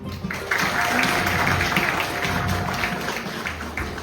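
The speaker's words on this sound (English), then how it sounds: "So please last round of applause for the team." Steady applause from a crowd at a lung cancer seminar fills the clip, a dense wash of clapping that holds at an even level throughout.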